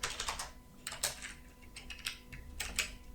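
Rapid typing on a Lenovo T420 laptop keyboard, bursts of close, crisp key clicks with short pauses between them, no voices.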